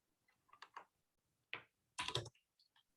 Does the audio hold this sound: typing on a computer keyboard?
yes